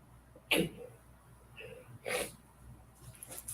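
A person sneezes close by in a home, a sharp burst followed by a snort-like exhale, with brief quiet breathing and faint voice sounds around it.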